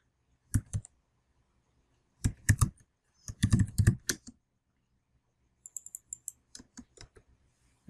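A computer keyboard rattles out short bursts of quick key clicks while terminal commands are entered, with pauses between groups of keystrokes and a final light tapping.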